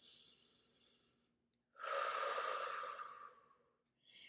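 Slow, soft breathing during a held bridge pose in a post-baby core workout: a quiet exhale, a pause, then a longer audible inhale or sigh, close and gentle, with a new breath starting at the end.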